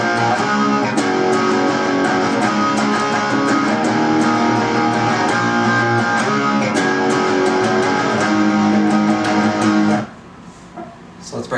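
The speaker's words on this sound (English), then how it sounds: "So let's break that up. It's all power chords." Electric guitar strums a pre-chorus of power chords in a steady rhythm, loud and close, ringing alone for about ten seconds before stopping abruptly.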